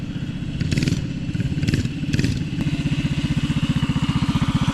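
A homemade mini bike's small engine revs in a few rough bursts, then settles into a fast, even idle chug close by, loud and mechanical with clattering tones.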